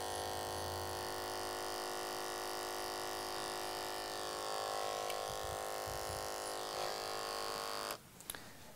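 Electric hair clippers with a quarter-inch guard buzz steadily at close range while cutting hair on the sides of a head toward the temple, a continuous whine that cuts off near the end, with no talk.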